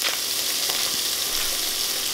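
Hot Italian sausage meat, browned for a spaghetti sauce, sizzles and fries steadily in a pan, a close, continuous crackling hiss with faint scattered pops and no talking.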